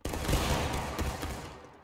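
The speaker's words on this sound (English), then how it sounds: "Make ready. Take aim." Dense musket volley crackling in War of Rights, a Civil War battle game, firing as one loud burst that rolls and slowly fades over about two seconds.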